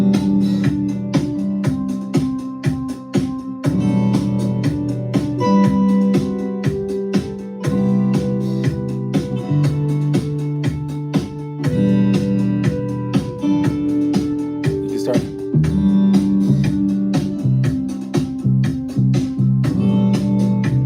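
Drums processed with Valhalla Drum Air reverb in Ableton, playing as a dense, continuous groove with steady hits and a full, roomy tail, loud and without any talking.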